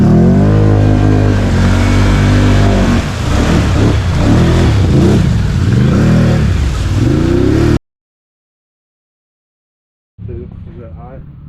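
A 2021 Honda Rubicon ATV on Outlaw2 tires roars loudly as it revs and pushes through deep water, the engine note rising and falling. It cuts to silence, then a fainter rumble returns.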